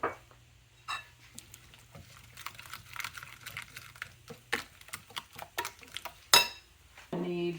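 Crab, shrimp, celery, Old Bay and pepper being mixed in a bowl, with soft scraping, occasional clinks of a utensil against the dish and scattered irregular taps, fairly faint and close.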